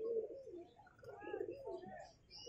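Pigeons at a pigeon market coo in soft, wavering bursts through the whole stretch, with a few higher chirps near the end. The calls sit fairly close and come at moderate volume.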